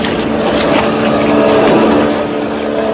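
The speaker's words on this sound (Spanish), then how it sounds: "Pero la motora del hombre enmascarado, aunque pasó muy cerca de ellos, no les embistió." Masked man's motorboat engine in a radio drama, a steady loud droning roar that swells slightly as it passes close by, with no talk over it.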